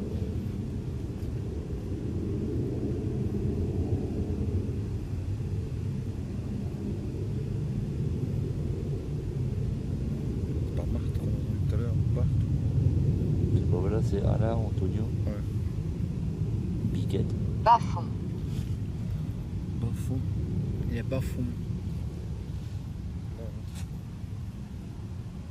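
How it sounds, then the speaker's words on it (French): A low, broad rumble swells and fades like a plane passing overhead, heard under people talking nearby. "On entend un avion passer"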